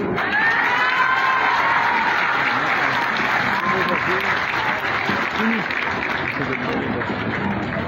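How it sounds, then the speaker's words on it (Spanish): A crowd at a local deputy's event breaks into loud, sustained applause mixed with cheering and a few high whoops, the clapping filling the whole stretch at an even, close intensity. "fuerte los aplausos"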